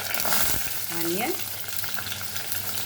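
Chopped onion and curry leaves fry in a tablespoon of vegetable oil, a constant loud sizzle with a brief stirring scrape near the start and a short rising squeak partway through.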